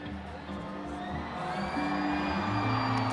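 Concert crowd at a 2019 live show cheering and whooping in a dense, sustained wash of voices, swelling louder toward the end with music underneath.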